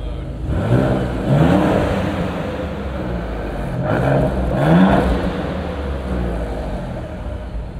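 A Maserati Gran Turismo in Corsa mode revs hard twice, each rising engine sweep swelling loud against a steady cabin rumble, with a quieter lull between the bursts.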